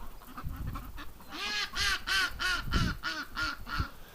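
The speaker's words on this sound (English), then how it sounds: "Oh, we got some ducks coming out of the barn." Ducks coming out of a barn on a frigid, windy winter day quack in a quick series of loud, close calls, about eight in a row, with softer rustling and wind beneath.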